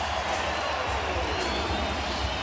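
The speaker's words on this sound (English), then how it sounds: "And a big cheer as Alex Burrows' name is mentioned" A hockey arena crowd roars for NHL player Alex Burrows: a steady, dense wash of cheering and crowd noise that fills the space evenly from start to finish.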